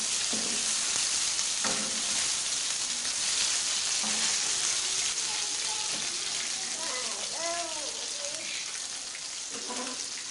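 Fish frying on a tawa, a steady oily sizzle with occasional stirring scrapes, heard under a voice speaking intermittently.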